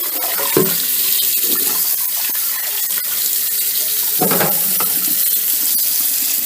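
Hot tap water runs steadily over orange fabric dyed with Easter egg dye as it is rinsed at a sink, giving a close, continuous rush with a couple of brief clatters.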